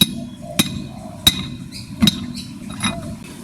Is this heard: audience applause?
no